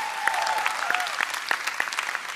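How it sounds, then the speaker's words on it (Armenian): A gala show audience breaks into applause, a dense, sustained clapping from a sizable crowd with sharp individual claps standing out. "Սոնային բարձր ծափարում ենք"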